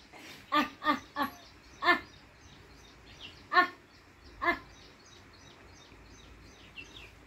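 A dog barks in a quick run of four sharp barks, then two more spaced apart, close and clear over a quiet farmyard background with faint bird chirps.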